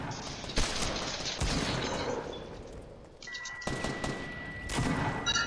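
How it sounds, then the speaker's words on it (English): Gunfire in a Fortnite match: sharp bursts of shots and rapid volleys crack out in quick succession, loud and close, with a brief lull partway through. "I took fire from somewhere else"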